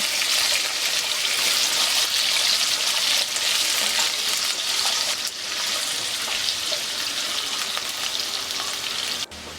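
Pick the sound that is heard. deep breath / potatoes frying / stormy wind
potatoes frying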